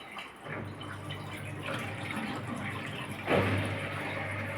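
A Haier washing machine drains its water during a self-clean cycle with an extra rinse. There is a soft, steady gurgling flow with a low hum underneath and a brief louder splash near the end, all fairly quiet.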